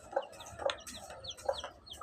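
Several chickens clucking nearby in short, repeated bursts, soft and close with brief pauses between calls.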